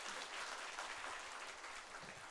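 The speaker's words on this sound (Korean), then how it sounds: "박수로 환영해 주시기 바랍니다" A church congregation applauds to welcome an associate pastor to the front, steady dense clapping throughout, moderately loud and filling the room with no talk over it.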